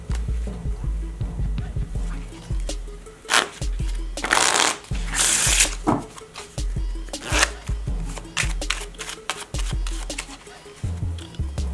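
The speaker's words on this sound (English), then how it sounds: "take a regular deck of cards and shuffle it well" A regular deck of playing cards being shuffled by hand, with repeated riffling bursts and rapid flutters of card edges, close and fairly loud, with no talking.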